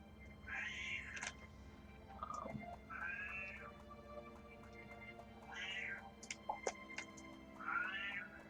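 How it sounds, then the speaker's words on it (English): A house cat meows four or five times, drawn-out rising and falling calls spaced a few seconds apart over a quiet room hum, with a few faint clicks between. "Cat's being annoying."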